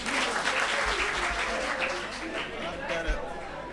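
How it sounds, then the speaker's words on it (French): Audience applause on a French quiz show, a full burst of clapping that holds steady and then eases slightly, with some crowd chatter and a few thumps mixed in. "Merci public, applaudissements pour vous."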